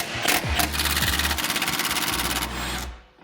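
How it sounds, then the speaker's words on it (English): A power tool, likely an impact wrench, removes the upper control arm bolts on a C6 Corvette: a loud, close, rapid buzzing whir runs nearly three seconds with a brief break early on, then cuts off. "Now you can remove the 4 upper control arm bolts."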